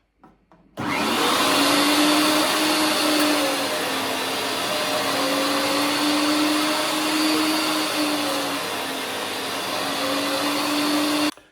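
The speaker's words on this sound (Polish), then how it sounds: "Teraz zmieniłem sitko y, na 7 mm i na tym sitku mielę łopatkę" An electric meat grinder fitted with a 7 mm plate minces pork shoulder for homemade sausage: a loud, steady motor whine starts abruptly and holds at an even pitch for about ten seconds, with no talking.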